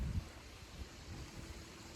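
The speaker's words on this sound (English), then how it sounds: "It's a bit windy." Wind blowing across an outdoor spot where a garden sprayer is in use, a steady low rumble of gusts buffeting the microphone with no voices throughout.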